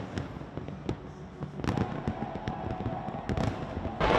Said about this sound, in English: Rio de Janeiro's Copacabana Beach welcomed a small crowd of a few thousand for a short fireworks display